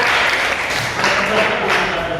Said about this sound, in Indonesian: Boleh terus tepuk tangan buat kelompok 2 yang tadi